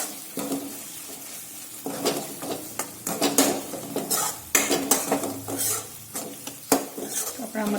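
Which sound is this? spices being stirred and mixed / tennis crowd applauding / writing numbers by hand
spices being stirred and mixed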